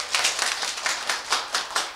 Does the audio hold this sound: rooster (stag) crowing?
no